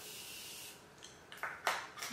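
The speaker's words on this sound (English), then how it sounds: "So I'm gonna spray this onto my face." A facial setting spray hisses close by in a long fine-mist spritz, followed by a few short, sharp puffs of spray.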